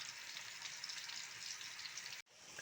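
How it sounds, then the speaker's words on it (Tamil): Prawn curry bubbles in a pot with a dense, steady simmering hiss, close and fairly quiet, that cuts off abruptly near the end before faintly resuming. "இறால் குழம்பு கொதிச்சிட்ருக்கு"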